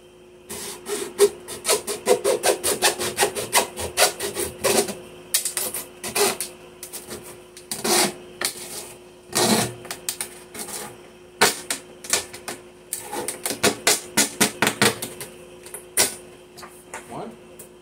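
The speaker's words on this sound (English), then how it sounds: "Now to cut these sides here, I'm going to use this little hacksaw." A small hacksaw cuts through the sides of an aquarium with repeated rasping strokes in uneven bursts, close and fairly loud, pausing briefly between runs of cutting.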